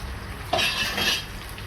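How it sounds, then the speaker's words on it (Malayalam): Sliced onion being sautéed in hot oil and ghee for prawn biryani, with a brief clatter of a utensil against the pan over a steady frying hiss, close and without talk. "ഈ വളരെ നൈസായിട്ട് കട്ട് ചെയ്ത് ഒരു ഓനിയൻ നമുക്ക് ഇതിലേക്കിട്ട് വഴറ്റിയെടുക്കുക"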